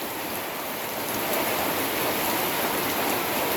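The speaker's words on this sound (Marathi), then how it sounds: "तर पाऊस भरपूर पडतोय ना" Heavy rain pours down in a dense, continuous hiss, loud and close, with no pauses or other sounds.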